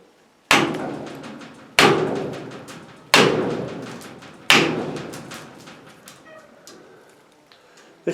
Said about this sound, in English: I'm probably just going to hack them right there.